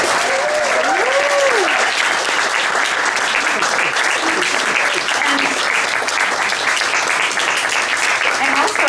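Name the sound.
audience applause for performers at a poetry event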